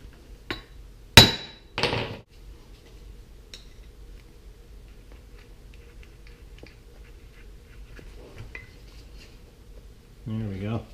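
Sharp hammer blows on a mini four-cycle engine's flywheel during a teardown: a few loud metallic strikes close together near the start, then quiet with faint clinks, and a brief burst of noise at the end.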